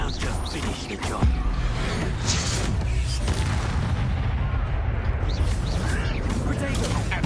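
A spell blast in the Hogwarts Legacy video game, the Expulso explosion: a heavy boom followed by a dense, sustained rumble, with voices and game sounds mixed in.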